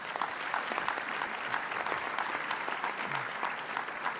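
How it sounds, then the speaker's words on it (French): A high-level panel audience breaks into sustained applause for a speaker, a dense, even wash of many hands clapping that fills the hall from start to finish without any speech. "Je vous prie de l'applaudir une fois de plus."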